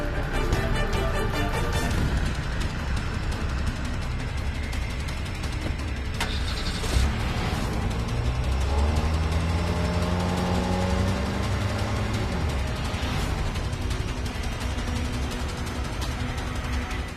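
A car engine turns over and runs, then revs as the vehicle pulls away, a loud, steady engine drone with rising and falling pitch over traffic-like background noise.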